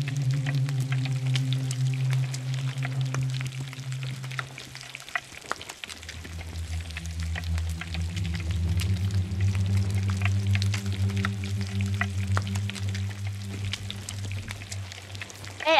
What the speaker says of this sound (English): I'm cooking pork.